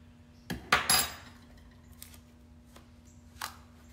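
Sugar hand scrub gets stirred in a bowl: a cluster of clinking spoon-on-bowl strikes at the start, then a few softer isolated taps, close and quiet with no talk.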